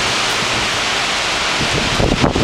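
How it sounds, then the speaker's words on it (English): Strong wind whips through the city of Sri Hartamas during a heavy rainstorm, a steady broadband roar with gusts swelling louder near the end, no voices. "And it's kind of windy too."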